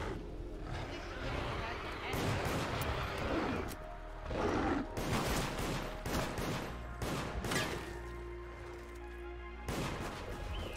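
Gunfire from the multiplayer video game Deceit, bursts of shots and crashes running through most of the stretch over a busy game background, with players talking throughout.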